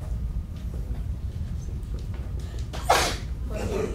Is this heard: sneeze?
yes